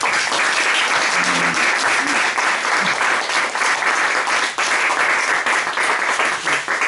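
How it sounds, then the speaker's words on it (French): An audience at an academic colloquium on Greek patristics applauds a colleague warmly, a loud, dense, continuous round of clapping filling the whole stretch with no pause. "je voudrais d'abord que on applaudisse très chaleureusement notre collègue ici, Alain Le Bouloueg"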